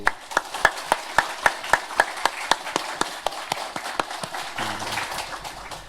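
A church congregation claps in a steady rhythmic beat, about two dozen crisp claps at an even tempo that loosen into scattered applause near the end, with a low voice entering briefly.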